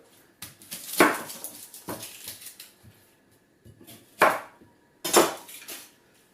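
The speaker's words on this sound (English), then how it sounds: "let's cut some of these other things up." Small mushrooms and onions are chopped with a knife on a cutting board: a handful of sharp, separate knocks in an uneven rhythm, close by, with quiet gaps between them.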